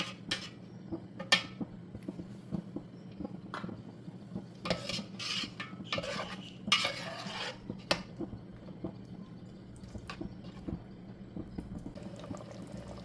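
Mutton masala being stirred in a pot, repeated scraping and rasping of a spoon against the metal with intermittent clinks, up close and irregular, over a low steady hum, with no talking.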